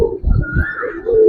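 Pigeons at a Bangladeshi bird market, including a pair of Giribaz pigeons on sale, coo in soft repeated throaty calls that rise and fall close by. No one speaks.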